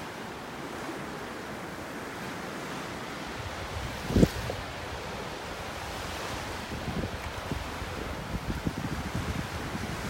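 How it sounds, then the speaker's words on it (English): Steady surf washes onto a beach in North Naples, Florida, under a continuous wind-blown roar, with one brief sharp knock near the middle and no voices. "Gorgeous out here with the waves."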